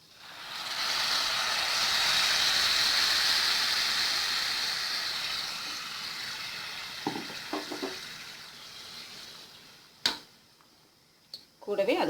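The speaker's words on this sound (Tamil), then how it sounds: "அரிசி எடுத்து அதே கப்பில் நான் 1/2 கப் அளவுக்கு தண்ணி சேர்த்துக்கிறேன்." Half a cup of water poured into a pan of stirred basmati rice for cashew pulao, a steady close hiss and splash lasting several seconds, then fading into a few light clinks and taps.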